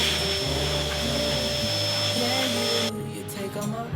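A vacuum cleaner runs steadily and loudly, its drone holding for about three seconds before the sound drops away abruptly near the end. Music plays underneath.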